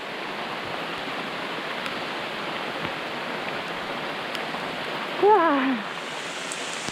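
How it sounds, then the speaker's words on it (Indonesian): Heavy rain pours steadily on a mountain trail near the second post of the Palutungan route up Ciremai, a dense continuous hiss throughout, with one brief exclaiming voice late on. "hujan lagi. Lumayan deras ini mah."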